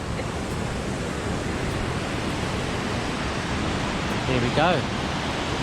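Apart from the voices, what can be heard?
waterfall rushing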